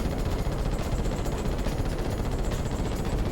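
Dense, continuous rapid-fire weapon shots from the video game Ratchet & Clank crackle steadily at moderate level throughout, alone with no talk.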